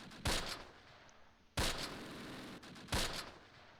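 Gunfire in the Close Combat strategy game during a tank engagement: three loud, sharp shots about 1.3 seconds apart, each with a short decaying tail over a low background.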